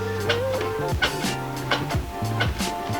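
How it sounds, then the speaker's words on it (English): Repeated clacking and knocking thuds of a loose wooden DIY sim racing cockpit rattling, irregular taps over a low motor hum. "make some adjustments so it doesn't have those rattly sounds like this one"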